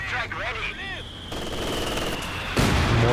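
Rapid machine-gun bursts and heavier blasts from a Company of Heroes 2 battle with a mortar pit firing, a steady crackling barrage that grows louder toward the end, with a voice partly heard under it.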